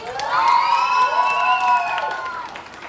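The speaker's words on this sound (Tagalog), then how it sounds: "Sigawan ng tiwag, hiyawan para naman kay Justin" A crowd of children shouts and cheers together at a baby's dedication celebration, a loud, continuous burst of high excited voices that swells early and fades gradually over about three seconds.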